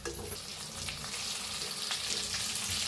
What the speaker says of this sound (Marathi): आता वांगी भरलेलं टाकू आपण,